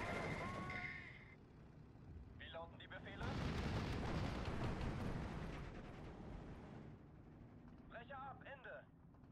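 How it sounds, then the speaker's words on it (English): Bombs strike an anti-tank gun in the Steel Division 2 wartime strategy game, a heavy rumbling blast swelling midway and lasting several seconds, with brief voices and radio chatter before and after. "I will bomb the AT gun though"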